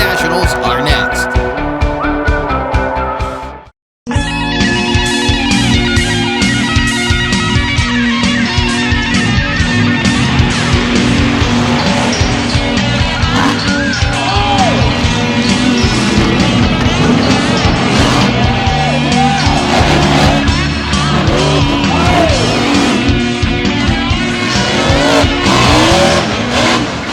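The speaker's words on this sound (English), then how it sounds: "brings the roar of the monster trucks" Monster truck engines roar loudly at the Performance Motorsports Monster Truck Nationals in Winchester, with dense revving and tire noise, a brief silent break near the start, then continuous racing din mixed with music and voices.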